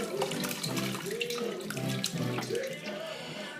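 Bone broth pouring through a colander into a sink, a steady close gurgling and splashing flow of liquid with no voices.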